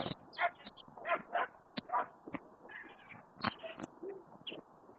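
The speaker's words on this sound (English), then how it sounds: "he's got his 3 little dogs and they're all on a leash" Three small leashed dogs on a trail walk in Columbus let out a scattered run of sharp yips, barks and whimpers, fairly close, with short gaps between bursts.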